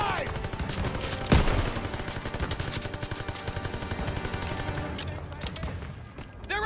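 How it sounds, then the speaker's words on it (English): Dense, sustained gunfire from the World War II shooter Call of Duty WWII, with rapid machine-gun bursts and a sharp loud shot near the start, all continuous over a busy battle bed with some shouting. "they need cover fire! Suppressive fire! Keep firing!"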